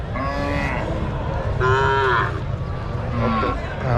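Calves and cattle at a native cattle market moo repeatedly, several long overlapping calls close by over a constant crowded background hum.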